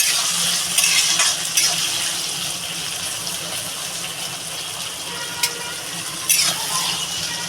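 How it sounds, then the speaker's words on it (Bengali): Onions sizzling with salt in a pan, a steady broadband hiss with occasional small pops and crackles, fairly close and continuous with no talk. "এবার এটা ভালো করে ভেজে নেবো একটু"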